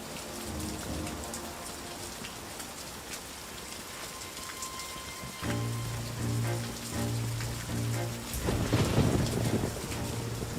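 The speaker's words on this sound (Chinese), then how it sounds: "风大雨急" Heavy rain pours steadily on a stormy night with wind, a dense hiss throughout, joined midway by a deep rolling rumble like distant thunder that swells near the end.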